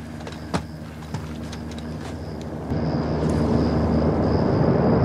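A helicopter draws closer in a Call of Duty MWII campaign mission, its steady rotor and engine roar swelling and settling into a constant drone, with a few sharp clicks and knocks early on and no talk.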